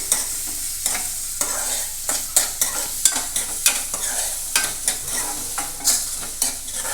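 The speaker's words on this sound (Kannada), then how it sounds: "2 ನಿಮಿಷ ಎಣ್ಣೆ ಒಳಗೆ ಫ್ರೈ ಮಾಡಿರಿ ಒಗ್ಗರಣೆನ" Tempering for bread oggarane sizzles steadily in hot oil in a pan, with regular scraping strokes of a spoon stirring it. No one speaks.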